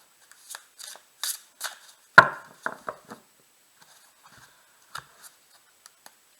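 A deck of tarot cards being cut into three piles by hand, heard as a series of close, crisp card slaps and flicks with quiet gaps between them.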